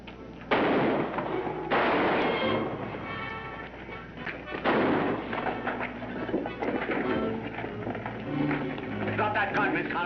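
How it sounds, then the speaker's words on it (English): Gunfire from a 1952 film shootout scene, with loud sharp bursts rising at the start and again midway, leaving a dense, noisy soundtrack between them. "As they start to shoot, she opens up on them."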